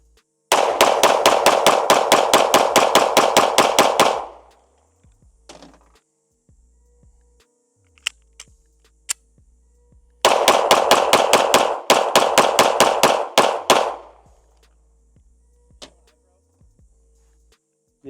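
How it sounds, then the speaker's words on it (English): Two long strings of rapid, sharp gunshots from a Springfield Hellcat Pro Comp pistol, each burst lasting about four seconds. The bursts are separated by quiet handling clicks and faint noises. "All right, mags are loaded. Let's keep shooting it."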